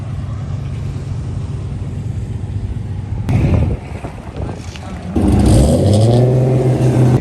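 A drift car on a test run at a drift event, recorded from the driver's seat: wind rush and engine drone, then the engine revs up sharply and loudly near the end.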